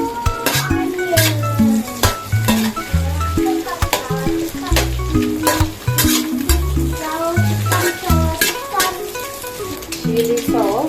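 Onion stir-frying in a pan at home, a steady sizzle under repeated scraping and clinking of the utensil against the pan, with a voice speaking over the cooking.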